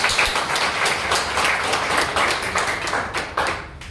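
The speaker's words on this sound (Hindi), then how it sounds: "सबसे पहले इस नाटक के निर्देशक मध्य प्रदेश नाट्य विद्यालय के स्नातक जागृति गुप्ता के लिए जोरदार तालियां" Theatre audience clapping for a play's director, a loud, dense burst of hand claps with distinct sharp individual claps standing out, steady throughout.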